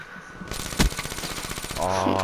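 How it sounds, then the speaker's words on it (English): A rapid burst of gunfire from the video game Call of Duty: Black Ops III rattles out in quick succession, with a player talking over it. "Oh, I got sniped by Wonder."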